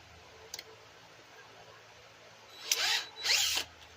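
Quiet at first with a faint tick, then two short bursts of a power drill whirring into metal with a 1/8-inch bit, drilling out a broken bolt, close and fairly loud.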